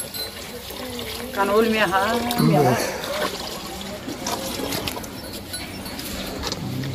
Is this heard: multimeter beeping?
no